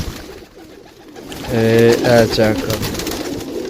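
Pigeons for sale in Sarai Alamgir, Pakistan, give soft, throaty coos in a short cluster of repeated calls near the middle. Someone talks nearby at the start.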